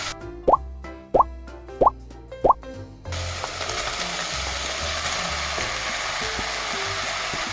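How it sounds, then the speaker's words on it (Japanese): Vegetables drop into a hot pan for curry with four sharp plops, then a steady loud sizzle of frying takes over and runs on under faint stirring. "そしたら野菜を入れます。"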